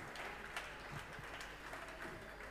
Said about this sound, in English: Another resounding applause to that speech.